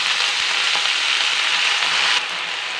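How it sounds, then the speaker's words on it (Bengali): Washed drumstick leaves drop into a pan of hot oil and fry with a loud, steady hissing sizzle. The sizzle eases slightly near the end. Nobody speaks. "এবার ধুয়ে রাখা শাকগুলো দিয়ে দিচ্ছি।"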